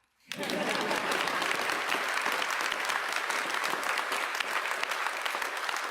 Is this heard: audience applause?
yes